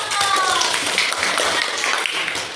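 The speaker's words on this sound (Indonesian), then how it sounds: "tepuk tangan kelompok" A classroom of students claps for a group during a truth-or-dare learning game, a dense, close burst of clapping mixed with chatter and a few raised voices.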